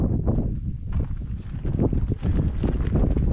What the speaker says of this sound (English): We have a little bit of wind